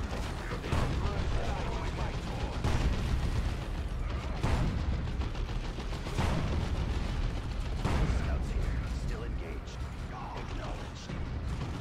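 Heavy weapons fire in the Warhammer 40,000 strategy game Dawn of War 2: Chaos Rising, dense continuous booms, rattling gunfire and mechanical clanks layered into a loud, busy battle din.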